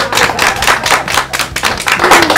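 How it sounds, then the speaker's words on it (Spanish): Close, loud clapping from a small group in Pijao, Quindío, Colombia, in uneven bursts that fill the short moment without any voices. "un fuerte aplauso para ustedes"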